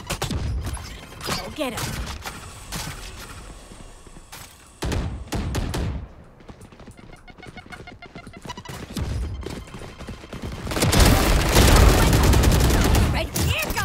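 Frantic gunfire and a grenade explosion from an online shooter video game: bursts of rapid shots and thuds, a quieter lull, then a loud sustained blast near the end, with brief spoken words over the action.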